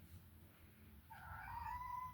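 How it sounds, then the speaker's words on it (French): A house cat lets out a drawn-out meow partway through, rising over a low background hum and faint ambient noise, fairly soft and close. "J'ai un chat à la maison, il miaule."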